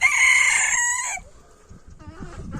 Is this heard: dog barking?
no